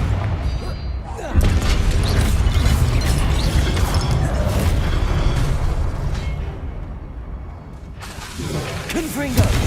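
Confringo fire spells burst in heavy booms during combat in Hogwarts Legacy, loud rumbling blasts layered with game effects and music over several seconds.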